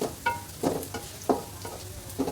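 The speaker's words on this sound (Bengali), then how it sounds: "তেল গরম হওয়ার পরেই পেঁয়াজ আর এই যে কয়েকটা কাঁচামরিচ ছেঁড়া দিয়ে দিছি তেলের মধ্যে।" Onions and torn green chilies frying in hot oil while being stirred, a soft sizzle beneath several distinct scraping strokes spaced through it, close and fairly quiet.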